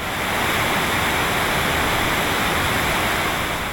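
Lyazhginsky waterfall in Ingushetia, nearly 20 metres high and 5 metres wide, roars as a loud, steady, dense rush of falling water with no voices.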